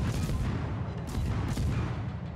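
Warship guns fire salvos in the naval game World of Warships, a dense, continuous rumble of booming gunfire with a few sharper bursts standing out, loud and sustained throughout.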